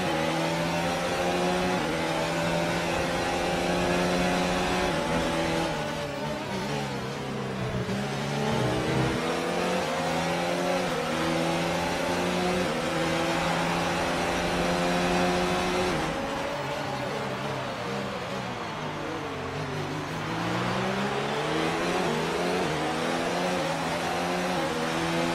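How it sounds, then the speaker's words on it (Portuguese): Race car engine in the F1 2019 racing video game, revving loud and steady throughout with rising and falling pitch sweeps as it shifts through gears, no voices over it. "Conseguir continuar com o motor nesse giro por muito tempo."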